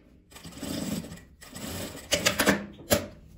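A sewing machine stitches a seam on a simple garment sewn without a pattern, running in steady close bursts with brief pauses and sharper surges near the end.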